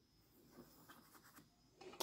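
A fountain pen with Pilot Iroshizuku Tsukushi ink scratches faintly across paper as a name is signed, with soft intermittent strokes, very quiet and close, and a brief louder scrape at the end.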